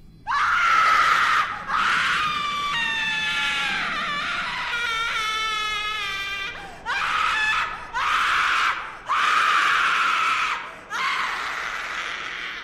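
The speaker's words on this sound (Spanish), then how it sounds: "escuchó un grito desgarrador que le erizó todo el cuerpo" A woman's harrowing, drawn-out screams fill a ghost story, repeated in long loud wails with a warbling middle stretch, then several shorter cries separated by brief gaps.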